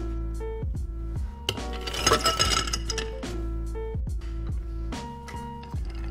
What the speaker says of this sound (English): Then add ice to your mixing glass and give it a stir.